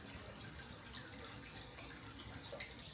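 Hot spring water runs into an open-air bath of white granite at an Izu inn, a steady, fairly soft splashing flow that continues evenly with no voices over it.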